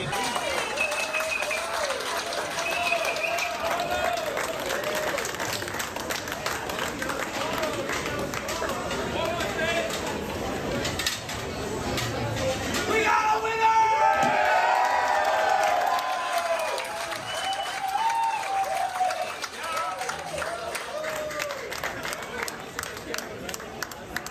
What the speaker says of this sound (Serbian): Okupila se raja i navija